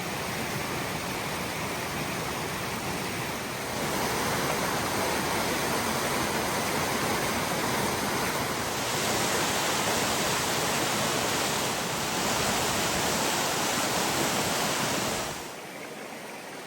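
Steady, dense rushing of a spring mountain stream at a trail water crossing on the Franconia Ridge Loop, loud and continuous, shifting slightly in intensity before easing near the end.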